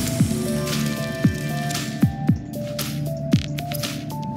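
Wet squishy eating sounds from the Subnautica video game, a few soft squelching blips spaced irregularly over a steady low hum, with no talking.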